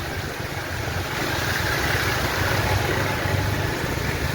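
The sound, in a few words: motorcycle engine running through flood water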